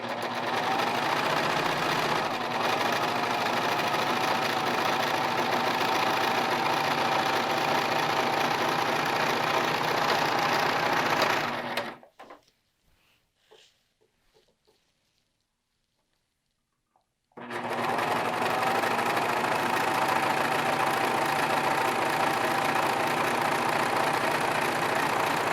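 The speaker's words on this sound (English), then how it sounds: "Now we need to finish the seams, which I'm going to do with a serger." A serger finishes the seams of long sleeves, whirring loudly and steadily for about twelve seconds. It pauses briefly with a few soft handling sounds, then starts again and runs on steadily to the end.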